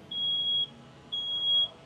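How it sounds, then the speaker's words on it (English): A smoke detector at a fire sprinkler demonstration gives two long, steady, shrill electronic beeps, each about half a second, separated by a short gap, loud and clear over a low background hum. "Now we have a smoke detector."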